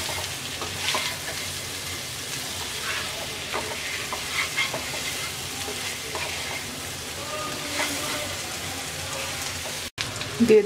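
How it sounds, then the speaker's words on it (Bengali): Potato and taro pieces with ground spices sizzle steadily in a pan while being stirred, giving a continuous loud frying hiss with irregular scraping strokes and a brief drop near the end. "এবার আমরা 5 মিনিট নেড়ে চেড়ে রান্না করব।"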